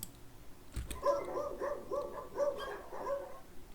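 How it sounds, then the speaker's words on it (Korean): A library sound effect of a dog barking plays after a short thump. Several fairly faint barks and yips come in a loose rhythm, with no talking over them. "개소리,"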